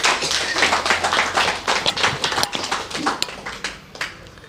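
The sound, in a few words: audience clapping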